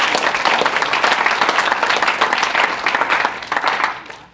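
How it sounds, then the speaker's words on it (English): A group of students at a gathering breaks into loud, sustained applause, a thick wash of clapping hands close by that holds steady and then tapers off at the end. "give yourself a round of applause for that"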